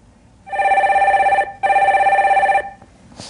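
A telephone rings twice in quick succession as the next caller is put through on a Korean stock-market call-in programme, each ring a loud, close, steady trilling tone with a short gap between, fading into room quiet.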